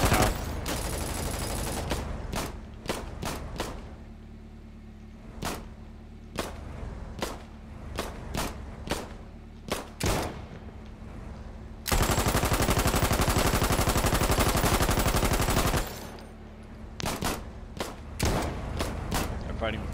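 Pistol gunfire in the war video game Foxhole, loud sharp single shots in uneven bursts with a sustained stretch of rapid fire midway, distant voices underneath.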